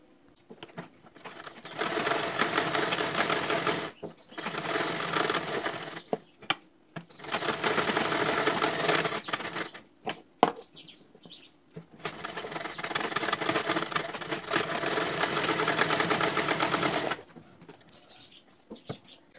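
A sewing machine stitches the back neck of a blouse in close, steady bursts of rapid whirring, with three long runs separated by short pauses and light handling noises, no talk.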